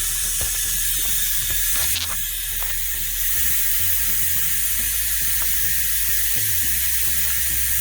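Compressed air hisses steadily from a valve on new Viking coilovers fitted to an S10 truck, a continuous broadband rush with a few faint clicks and knocks from the fitting as it is worked on.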